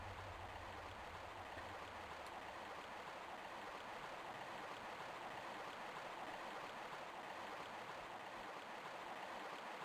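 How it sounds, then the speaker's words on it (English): In the video game Tomb Raider Remastered, a waterfall gives off a constant, faint rushing roar of falling water that holds steady the whole time, with no talk. "let me get the waterfall turned off first"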